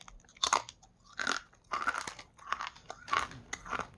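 Old, stale gum from a 1991 Topps baseball card pack being chewed up close, with about six distinct crunchy bites and mouth noises in an uneven rhythm, no talk.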